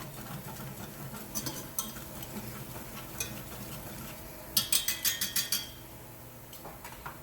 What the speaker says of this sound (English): I'm gonna whisk it a couple more times just to make sure that our alcohol is cooked off